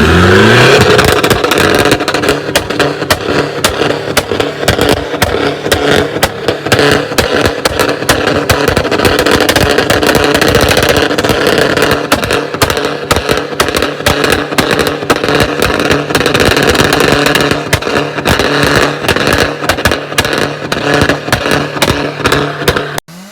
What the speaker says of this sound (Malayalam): ഡീസലിൽ ഇത്രയും പൊട്ടുന്നൊരു വണ്ടി ഇതുവരെ കണ്ടില്ല.